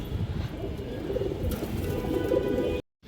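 Large racing-line pigeons of colourful fancy breeds coo steadily and close by, a dense low burbling that runs continuously before cutting off abruptly into silence.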